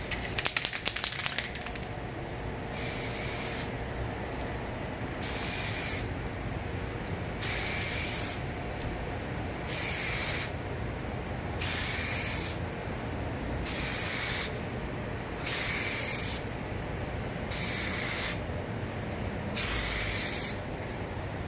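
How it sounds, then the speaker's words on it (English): Regular bursts of headlight coating sprayed from an aerosol can, about a dozen evenly spaced hisses, each lasting about a second, close to the microphone over a steady background hum. "Once you get to that point, you shake the can and you spray."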